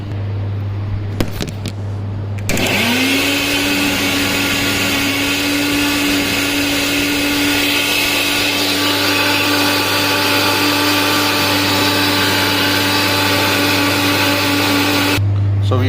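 A kitchen blender grinds chopped bottle gourd with ginger, salt and lemon juice, starting after a couple of seconds of handling noise and then roaring loudly and steadily for about thirteen seconds.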